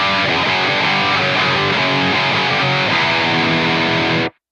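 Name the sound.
high-gain electric guitar through AmpliTube 5 dual rectifier amp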